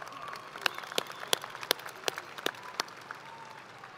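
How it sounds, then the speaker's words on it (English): Graduation ceremony audience claps after a call to honor the superintendent, a fairly quiet patter of scattered claps from a crowd, sparse sharp hits over a soft continuous wash. "Let's give our superintendent a round of applause."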